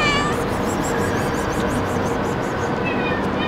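Street cats near rubbish bins in Abu Dhabi meow a few times against a steady, loud background hum, with a voice briefly greeting them.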